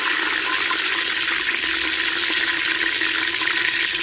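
Whole spices and mint leaves frying in oil in a pan for Andhra village-style gongura country chicken give a steady, even sizzling hiss throughout, close and fairly loud with no talk.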